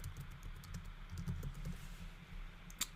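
Code is typed on a computer keyboard in a steady patter of quiet, close key clicks with short irregular gaps and one sharper keystroke near the end.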